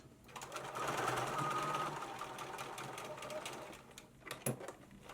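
A sewing machine stitches over existing seams on a simple tote bag, its fast running whir holding steady for about three seconds before easing off, followed by a few short clicks and handling noises, close and moderately quiet.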